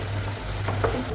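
A spoon stirs tuna pickle with asafoetida, gingelly oil and vinegar in a pan, giving a brief, soft scraping sizzle over a steady low background hum.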